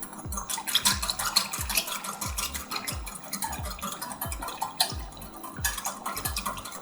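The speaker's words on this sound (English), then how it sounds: "And then give it a whisk." Lemon, pepper and olive oil dressing whisked briskly in a bowl, a steady run of quick, close scraping and clinking strokes throughout, with no talk.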